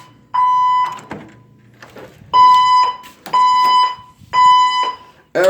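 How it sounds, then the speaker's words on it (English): A building fire alarm going off falsely around midnight, sounding loud, close, harsh electronic tones in repeated long pulses of about half a second, separated by short gaps, with no voices. "Fire alarm."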